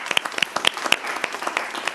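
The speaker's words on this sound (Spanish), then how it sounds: "creo que merece un aplauso por su valentía" A small studio audience on a talk show claps briefly, with sharp, separate handclaps close by and no voices.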